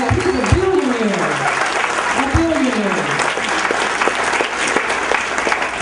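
An audience applauds at a music awards event, a dense, sustained clapping close up, with a voice briefly calling out over it near the start.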